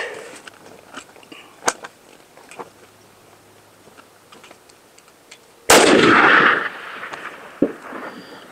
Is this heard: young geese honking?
no